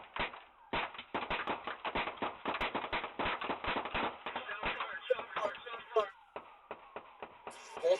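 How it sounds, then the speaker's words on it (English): Rapid gunfire during a police pursuit of a robbery suspect, a long burst of sharp cracks fired in quick succession, loud and close, then thinning out with raised voices joining near the end. "Shots fired, bro."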